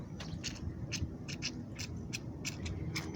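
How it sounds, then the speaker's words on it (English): A lawn sprinkler starts up outdoors, giving a repeating series of sharp ticking, clicking bursts over a steady low rumble of background noise, moderately distant. "That's the sound of a sprinkler coming on."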